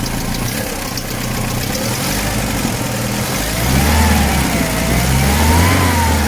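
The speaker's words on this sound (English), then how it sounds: "A really nice running engine. It is so nice to just listen to it." A 1979 Volga GAZ 24 engine runs steadily up close, a low continuous rumble that swells slightly louder partway through, with a rising and falling tone.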